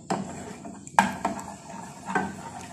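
A utensil stirs a homemade face mask mixture in a pot on the stove, giving a few distinct scraping clinks against the metal at an irregular pace, close up and with no talking.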